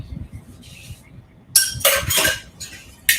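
A utensil stirs cauliflower batter in a bowl, first soft scraping, then a run of loud clinks and clatter of metal against the bowl, close up.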